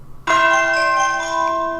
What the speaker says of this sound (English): I added tubular bells at the end just for a giggle.